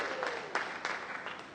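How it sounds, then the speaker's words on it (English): Scattered applause from a crowd at a live street or stage show, fairly quiet and uneven, with a few sharper individual claps standing out and a voice briefly audible underneath. "Give these guys a bit of applause."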